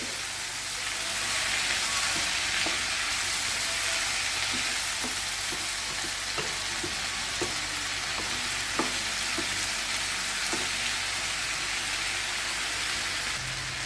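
Tomatoes are sautéed in a pan with bitter gourd, giving a dense, continuous sizzle close by, with irregular spatula scrapes and taps through the middle.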